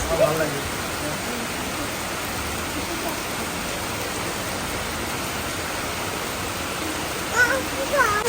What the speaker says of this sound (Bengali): মুসুল ধারায় বৃষ্টি হচ্ছে এরকম বৃষ্টি হলে যাওয়া যাবে